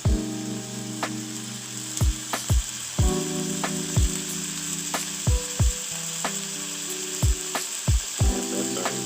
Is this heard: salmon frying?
yes